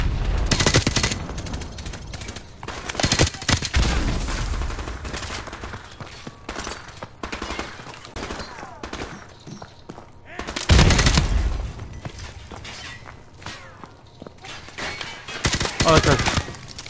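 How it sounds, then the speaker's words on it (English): Gunfire and covering fire in Call of Duty 4: Remastered: loud automatic bursts crack out in several clusters, heaviest at the start and again about two-thirds through, with quieter spells of scattered shots between them. "Give me some covering fire."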